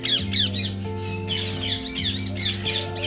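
Parrots squawking at a bird park, several harsh, shrill calls repeating close by over steady background music.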